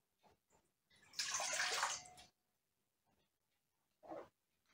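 Warm water, about one and a half glasses, poured for potato pie dough: a single steady splashing pour lasting about a second, close and moderately loud, followed by a short faint splash.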